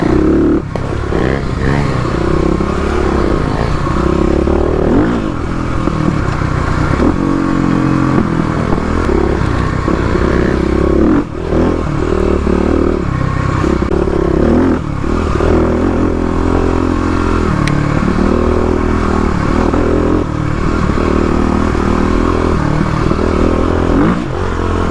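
A 35HP Kawasaki KLX351 motorcycle rides off road on a trail, its engine droning and revving continuously at close range with rattling and clatter from the rough ground, loud and unbroken throughout.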